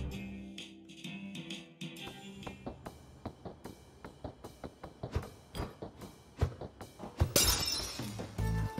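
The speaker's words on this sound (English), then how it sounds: "I'm very interested in this light bulb smashing." Light bulbs shatter again and again in the video game Night in the Woods, a fast run of sharp glassy pops and tinkles building to a louder crash near the end.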